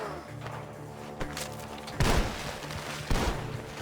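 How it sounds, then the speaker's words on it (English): Gunfire from inside a barn in the video game Red Dead Redemption 2, heard as heavy booming shots over a steady game background, with two loud bursts standing out after a few lighter thumps. "The gunshots are coming from that barn."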